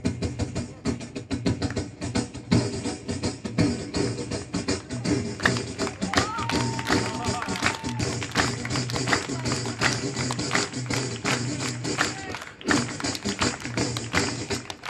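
A voice imitates a Punjabi dhol drum, beating out a fast, driving rhythm of vocal thumps and taps, with bits of sung tone.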